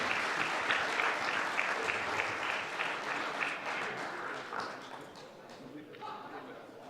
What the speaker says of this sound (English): Big applause for Gian